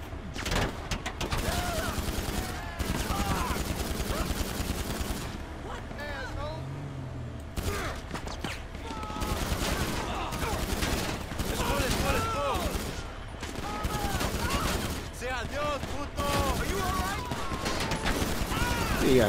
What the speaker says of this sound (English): the bad guys are shooting at you.